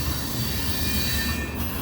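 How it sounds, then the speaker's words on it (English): A heavy freight train with flat cars rolls past close by, giving a continuous loud rumble with metallic wheel squeal and rail noise throughout. "This train has a little bit of everything on it, and it's a heavy one."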